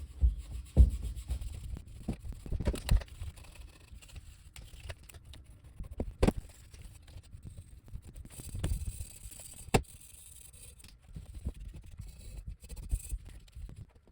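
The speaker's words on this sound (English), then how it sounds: "Now for the steel wool." Steel wool scrubbed across the surface of an AR rifle before painting, heard as close, irregular rubbing and scratching strokes with occasional sharper scrapes and knocks, with no talking.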